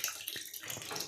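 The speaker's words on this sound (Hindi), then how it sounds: "अब मशीन में पानी गल गया" Water rushes steadily into a machine from a pipe at a village home, a close, continuous hissing flow with no talk.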